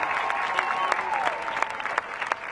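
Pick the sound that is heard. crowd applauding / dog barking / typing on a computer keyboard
crowd applauding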